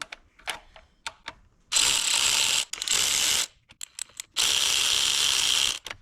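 Electric ratchet spinning out valve cover bolts on an Audi RS4, two sustained loud whirring runs of about a second each, close up, separated by handling clicks and clatter.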